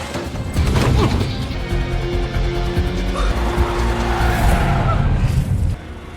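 A getaway car speeds off in an action film scene: loud, close tire screeching and skidding over engine roar that cuts off abruptly near the end, with no talking.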